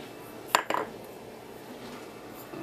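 Egg, water and seasoning for French toast are stirred in a bowl, with a couple of close, bright utensil clinks against the dish in quick succession before things fall quiet.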